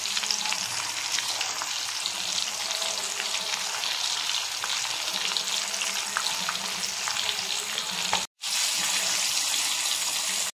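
Paarai fish frying in a pan, a loud, continuous close-up sizzle with crackling spatter that stays steady throughout and cuts out briefly near the end.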